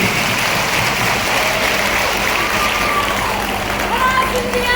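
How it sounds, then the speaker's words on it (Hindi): Sustained applause from a women's audience at a Raksha Bandhan gathering in a hall in Shivpuri, a dense, continuous crowd clapping that holds steady throughout. "तालियों बजाए जाए मेरी नारी शक्ति"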